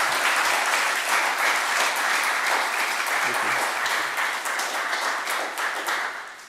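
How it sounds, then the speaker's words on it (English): Applause from an audience at a mayor's news conference, a dense steady wash of many hands clapping that carries on throughout and tapers off slightly toward the end. "Can we have a round of applause?"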